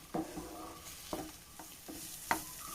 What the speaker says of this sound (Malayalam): ആ തക്കാളിയും പച്ചമുളകിൻ്റെ ഒക്കെ ആ പച്ച ടേസ്റ്റ് മാറണ്ടേ അപ്പോൾ ഒന്നും കൂടി നമുക്ക് നല്ലപോലെ വഴറ്റിയെടുക്കാം